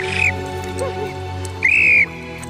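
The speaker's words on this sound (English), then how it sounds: "it takes a lot less energy to blow on a whistle than it does to yell for help" A safety whistle from kayak fishing gear gives two shrill blasts, a short one and then a longer, louder one about a second and a half later, heard alone over low background noise.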